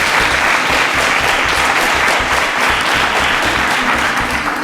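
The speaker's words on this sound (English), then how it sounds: "A round of applause for Enoch." An audience at a televised quiz competition gives a loud, sustained round of applause for a contestant who answered a math question correctly, a dense, even roar of clapping that holds steadily throughout.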